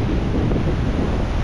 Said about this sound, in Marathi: मस्त लाटा बघा किती जोरात येत आहे